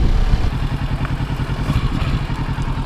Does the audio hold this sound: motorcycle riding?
yes